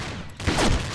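A Remington 11-87P shotgun in Combat Arms fires, a sharp loud blast after a short quiet gap, ringing out briefly and close with no talk over it.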